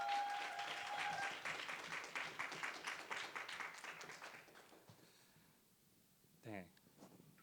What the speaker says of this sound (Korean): 박수로 한번 환영해 주시면